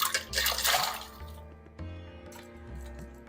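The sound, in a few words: water poured into a pot of cubed carrots and swede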